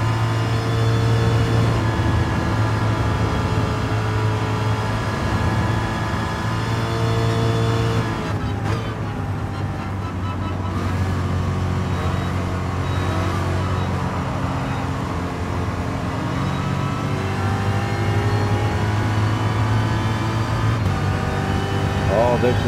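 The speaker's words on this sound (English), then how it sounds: "That Ferrari's fast." Ferrari and Ford Mk 1 1966 race car engines in a racing video game, a steady droning engine hum with shifting revs running continuously throughout, with a brief dip midway.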